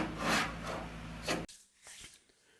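Rough back-and-forth rasping of a sanding block scraping the body of a 1950 Dodge Cabriolet convertible, loud and close for over a second, then fainter scattered scrapes.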